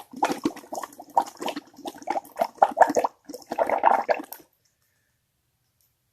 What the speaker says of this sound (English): You just blow your bubbles